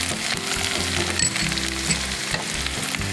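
Chopped onion fries in hot oil for a Malabar masala, a loud, dense, continuous sizzle with stirring scrapes, close and dominant with no talk.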